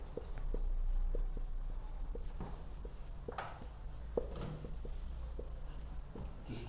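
A pen writes out a maths formula on paper, giving a run of soft, quick taps and scratches in an uneven rhythm, close and faint over a quiet room hum.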